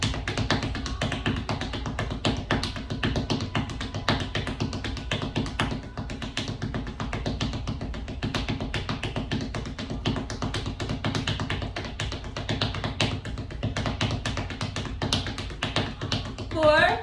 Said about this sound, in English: we're gonna move the ball side to side as we move our feet as fast as we can